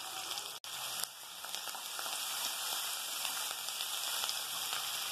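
Onion, garlic, rosemary and curry leaves sizzling in hot oil for a fish curry, a steady crackling hiss with one sharp pop near the start, alone and close.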